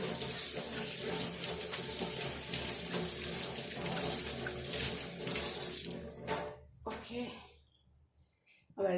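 Tap water runs steadily into a sink while hands are washed with soap, then the flow stops abruptly near the end, leaving near silence.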